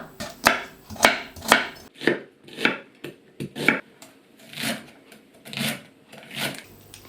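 A knife chops vegetables on a cutting board in a kitchen, sharp close strokes coming in uneven bursts, some quick and crisp, others softer and scraping.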